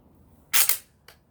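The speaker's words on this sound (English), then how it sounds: "I'm going to cock it for you." A Crosman V-350 BB gun being cocked by pushing down on its barrel, giving one sharp, close mechanical clack followed about half a second later by a smaller click, with no talking.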